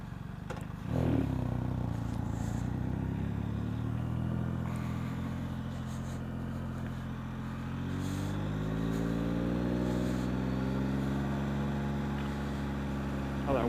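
A motorcycle engine revs up and pulls away on a ride, its steady drone rising in pitch as it accelerates, heard close over faint background noise.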